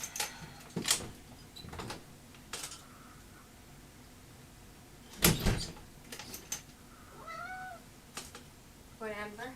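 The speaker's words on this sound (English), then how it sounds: "Let me open the door for my cat." A cat meows several times, short cries scattered between door and household noises, with voices talking faintly nearby as the door is opened for it.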